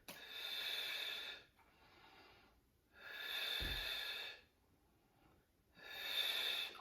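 Slow, deliberate breaths during a Pilates exercise, three long airy exhales or inhales about three seconds apart, close and soft, with quieter pauses in between.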